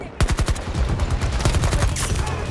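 A PP-29 submachine gun fires in Battlefield 2042, loud rapid bursts of automatic shots with a sharp repeating crack, sustained across the moment with a short pause near the end.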